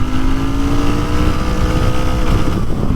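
A Royal Enfield Interceptor Bear 650 motorcycle accelerates hard in first gear, its loud, steady twin-cylinder engine note climbing in pitch throughout, close and continuous, with no voices.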